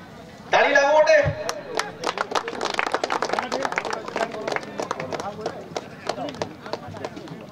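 Audience applause at a cricket post-match presentation ceremony for the Kamira Cup 2024, a dense patter of hand claps that starts suddenly and keeps going steadily, with a voice speaking over it.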